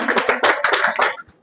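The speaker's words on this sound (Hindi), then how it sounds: "इसके लिए ताली बजाइए।" A classroom audience at a coaching academy claps hands in a brief, loud, close burst of overlapping claps that stops abruptly near the end.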